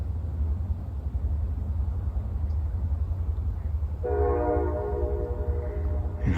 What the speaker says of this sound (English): And all we have is the sound of our train.